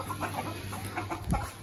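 Two pet chickens clucking in a household setting, a few short, fairly loud clucks spaced across a brief moment, with no talk over them.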